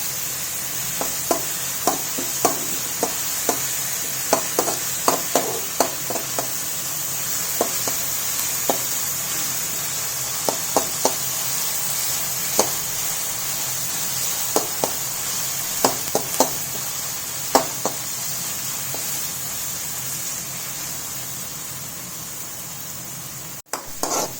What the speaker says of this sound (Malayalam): ഇത് ഉള്ളി ക്യാരറ്റ് ബീൻസ് ചെറുതായിട്ട് നന്നായിട്ടൊന്ന് വഴറ്റിയെടുക്കണം